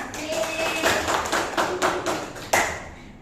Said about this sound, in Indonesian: Sekali lagi berikan aplaus kepada kita semua.